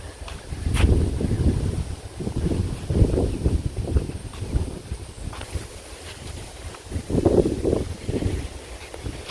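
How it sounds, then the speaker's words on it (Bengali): Strong wind buffets the microphone outdoors in a Bangladeshi village, coming in loud rumbling gusts that rise and ease repeatedly. "মনে হয় বাতাস উড়িয়ে নিয়ে দেবো এরকম একটা বাতাস থাকছে আজকে"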